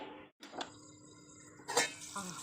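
A lid set onto a cooking pot, a short metallic clink and rattle after a brief silence, followed by a muffled bump, quiet and near.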